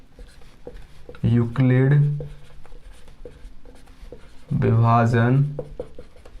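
A maths solution being written by hand for a Class 10 lesson, with faint scratchy strokes and taps between a man's spoken explanation.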